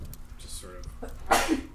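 A single quick sneeze near the end, sharp and close, following a few words of speech.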